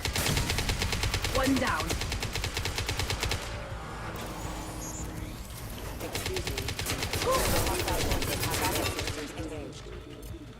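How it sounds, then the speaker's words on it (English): Heavy gunfire from a firefight in Mass Effect 2, with loud sustained bursts of rapid shots that pause briefly midway and then resume, mixed with battle noise and a short spoken line. "Firing a high impact shot"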